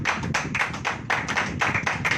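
A church congregation clapping hands together in steady rhythmic bursts, fairly close and lively, with no talking over it.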